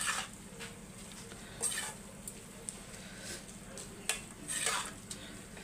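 Cooked spinach is mixed in a pan, giving soft, intermittent scraping and stirring strokes over a faint, steady low sizzle. The sound is quiet and close, with no voices.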